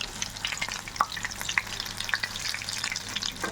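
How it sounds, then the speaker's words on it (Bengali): Large egg-coated soya chunks crackle as they fry in oil, a continuous busy sizzle dotted with small pops and light clicks as pieces are turned one by one; no voices. "তেলের মধ্যে কিছুক্ষণ রেখে দেওয়ার পর আমি এগুলো এবার একটা একটা করে উল্টে দেবো"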